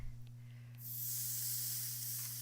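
A handheld steamer hisses steadily over a finished mandala embroidery piece, starting abruptly partway in and holding a loud, continuous spray against a low electrical hum.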